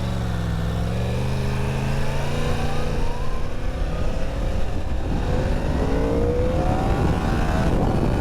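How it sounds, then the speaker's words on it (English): A 1000cc motorcycle exhaust rumbles loudly and steadily throughout, rising and falling in pitch as the engine revs while riding in Japan. "I could hear my exhaust though"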